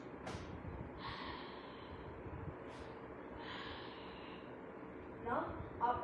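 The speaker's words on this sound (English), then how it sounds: "double slow breathing punch" A karateka performing a slow double breathing punch gives sharp, forceful exhalations, two audible huffs a few seconds apart, then a rougher burst of breath near the end against a quiet background.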